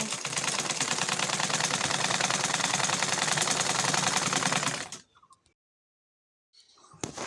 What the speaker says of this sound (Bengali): এখন আমি ডাবল সেলাইটা দিয়ে নেব।